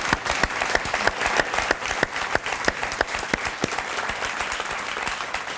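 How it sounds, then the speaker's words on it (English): A conference audience at a science prize session gives the panelists a sustained round of applause, dense overlapping claps with distinct sharp hand strikes standing out, continuing without talk. "Let's have a round of applause for our panelists."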